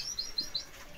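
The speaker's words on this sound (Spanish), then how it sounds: "Unos pájaros, por ejemplo, timbrados como estos" Timbrado canaries chirp in an aviary, several short, bright tweets repeating in quick succession, close and clear against a quiet background.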